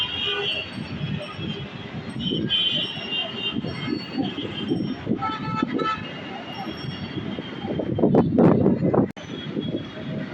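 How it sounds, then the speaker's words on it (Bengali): Strong wind gusts across an open rooftop in Dhaka on a foggy morning, a loud, continuous roaring rush that buffets close to the microphone and swells in stronger bursts toward the end. "এটা বাতাসের শব্দ"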